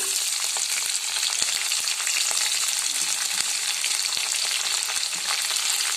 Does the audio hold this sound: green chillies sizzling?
yes